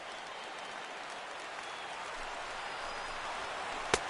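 A big stadium crowd of over 39,000 roars steadily in MLB 16 The Show baseball, a dense continuous cheer with a brief sharp spike near the end.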